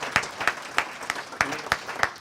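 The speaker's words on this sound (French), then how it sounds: "On peut les applaudir parce que c'est grâce à eux aussi" Audience at a wellness club event clapping for the club's organizers, heard as a handful of distinct, evenly spaced claps falling into a slow steady rhythm, fairly close and clear.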